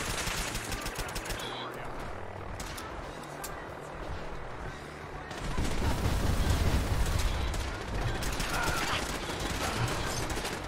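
Sustained automatic gunfire fills the final battle of the Fallout 4 video game, with rattling bursts and heavier blasts layered over a constant combat din that swells louder midway and stays intense throughout.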